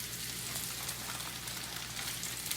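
Oil sizzling and crackling in a hot pan over high heat while making homemade pizza, a constant bright hiss with fine popping, close and steady throughout.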